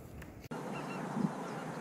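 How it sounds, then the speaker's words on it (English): Geese honk overhead in flight during a California duck hunt, giving a few clear calls at moderate distance over steady outdoor background noise. "Let's wait on the geese. They're flying right over."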